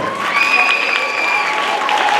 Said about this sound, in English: Another round of applause for Miss Shayla Ortega